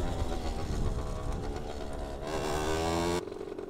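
A motorcycle engine runs while riding, giving a loud, close, gritty drone with strong harmonic tones that rise in pitch as it accelerates, then drop abruptly near the end.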